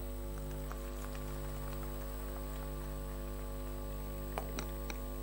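Steady patter of rain falling on a surface, soft and continuous, with a few sharper drips near the end.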